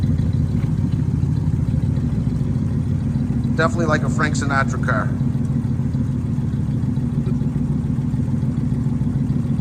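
A V8 430 muscle car engine with an automatic transmission and 80,000 miles idles steadily and close by, a low continuous rumble throughout, with someone speaking briefly over it partway through.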